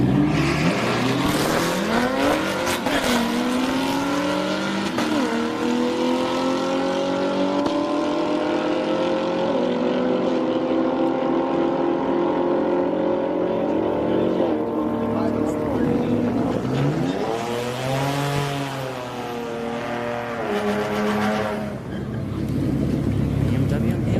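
Drag race cars roar loudly at Orlando Speedworld, engines revving with rising and falling pitch sweeps as they launch and pass, continuous and close, with a public-address voice speaking over the din.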